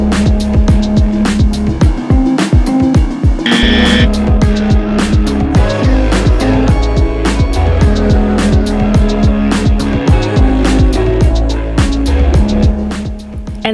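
A 13,000-pound truck, its tires not aired down, struggles to climb soft sand dunes at White Sands, its engine loud and close, revving hard in repeated surging bursts that rise and drop without pause.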